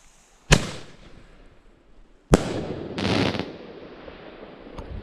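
Outdoor Christmas firecrackers go off in two sharp, loud bangs a couple of seconds apart, the second followed by a crackling, thudding burst and fading rumble, with no talk.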